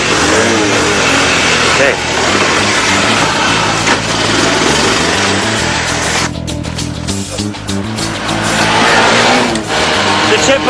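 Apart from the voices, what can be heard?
car driving around the block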